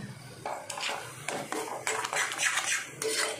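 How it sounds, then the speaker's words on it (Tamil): A thick milk sweet mixture is stirred in an alloy kadai: repeated metallic scrapes and clinks of the spoon against the pan, close and fairly loud, coming in bursts with no talking. "நல்லா மிக்ஸ் பண்ணிகிட்டே இருக்கணும்."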